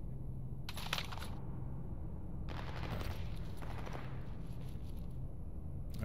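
Pistol gunfire in S.T.A.L.K.E.R. Anomaly, a few broadband shots in bursts over a steady low game hum, fairly loud with no talk.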